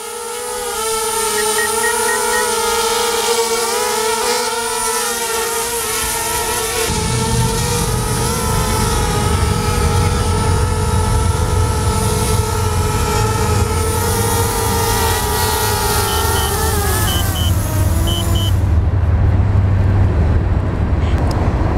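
DJI Spark drone lifting a GoPro Hero5 Session, its steady high-pitched propeller whine close by and constant throughout, shifting in pitch as it climbs and maneuvers, with a louder low rumble joining midway.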